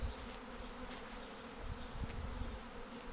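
A swarm of honey bees buzzes continuously, a dense steady drone with no voices, heard from a little distance and fairly faint.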